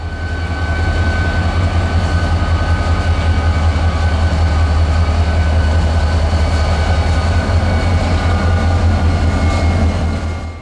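A Florida East Coast Railway freight train pulled by EMD locomotives, bound toward New Smyrna, rumbles past close by with a loud, steady diesel drone and continuous rolling wheel noise throughout.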